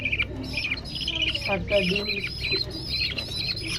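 Pet birds kept alongside pigeons chirp and squawk in quick, bright bursts nearby while a person talks over them.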